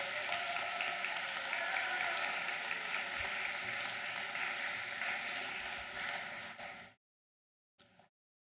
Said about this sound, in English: So I would like to give one round of applause to our entire school staff